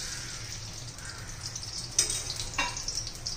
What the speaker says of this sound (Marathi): त्याच्यामध्ये आता तेल घालूया।